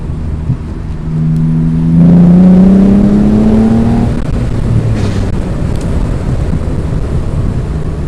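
A 2013 Morgan Roadster Sport with a 3.7-litre V6 accelerates hard, engine note climbing steadily in pitch over a few seconds before easing off, loud and close with wind noise throughout.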